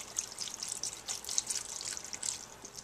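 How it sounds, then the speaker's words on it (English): Water streams steadily into a soup pot on a home stove for chicken soup, a close, continuous bright splashing pour with no talk. "And then here's the 8 cups of water."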